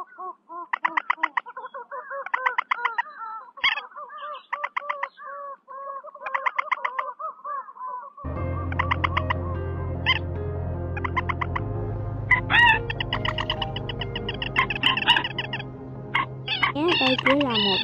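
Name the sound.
bird call recordings for trapping: moorhen, teal, coot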